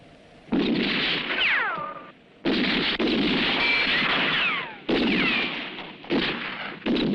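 Gunfire in a dubbed western film: several long volleys of shots with whining ricochets, separated by brief lulls, loud and echoing.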